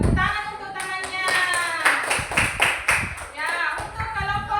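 A classroom group claps in a quick, regular rhythm after a group presentation, with many hands striking together in even beats while voices chant along loudly and close.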